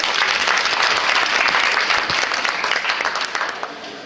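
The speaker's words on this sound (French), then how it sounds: "On applaudit Mélissa, s'il vous plaît." Steady applause from an audience at a regional dance competition in Brittany, dense clapping throughout that gradually thins and fades toward the end.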